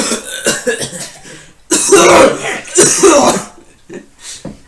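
Someone coughs and clears their throat several times, close and loud, in rough bursts with brief pauses between them.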